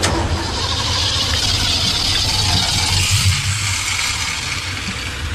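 At a car wash, a car engine turns over and runs in a steady, fairly loud idle against a constant broadband wash of noise, with no talking.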